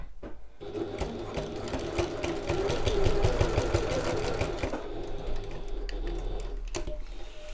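A sewing machine runs steadily, stitching a bag strap seam at regular construction stitch length, a close, even whirring with rapid needle ticks that carries on for several seconds alone before easing off near the end.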